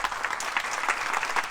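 A church congregation claps together during a Sunday worship service, a dense, steady patter of many hands filling the room.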